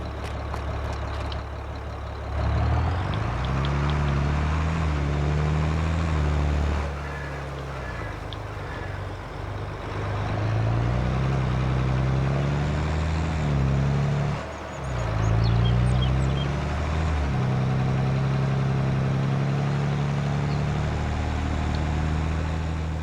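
A truck engine in the farming video game American Farmlands rumbles steadily at idle, a low continuous drone with slight shifts in pitch, alone with no talk.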